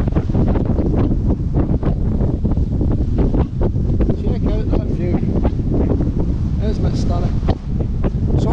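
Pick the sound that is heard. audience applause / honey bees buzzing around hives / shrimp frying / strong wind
strong wind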